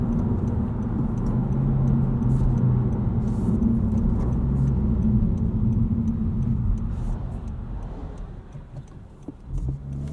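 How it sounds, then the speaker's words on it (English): A 2022 Honda Civic Si Sedan rolls down the road, with steady low tire roar and road rumble heard from inside the cabin, continuous and fairly loud for about ten seconds, with no talking. "Tire noise definitely depends on what type of pavement you're driving on."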